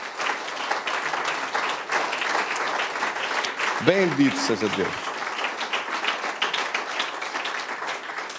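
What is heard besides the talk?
church congregation applause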